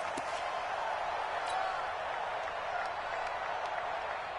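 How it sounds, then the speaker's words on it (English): A stadium crowd in an American football video game between the New Orleans Saints and the San Francisco 49ers roars in a steady, dense wash of cheering and applause, with faint claps and thuds poking through. "This crowd is ready as their guys get set to match up"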